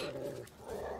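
Dogs in The Witcher 3 growl in a continuous low, rumbling snarl that fills the whole moment, loud and steady with a brief dip midway.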